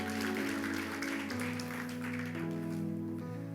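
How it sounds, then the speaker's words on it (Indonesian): Congregation clapping during an online church service, a steady wash of applause under sustained organ or keyboard chords that change pitch as the music moves. "Yuk berikan tepuk tangan buat Tuhan kita yang luar biasa."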